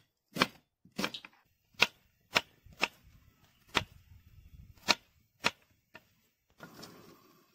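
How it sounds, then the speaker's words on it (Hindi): Onions being chopped on a cutting board while stinging nettle boils, about nine sharp, evenly separated knife strikes ringing out close and clear, with a softer scraping sound at the end. "उतनी देर में हम प्याज की कटिंग कर लेंगे"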